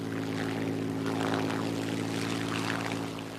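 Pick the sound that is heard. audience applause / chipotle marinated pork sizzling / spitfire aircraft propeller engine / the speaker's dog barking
spitfire aircraft propeller engine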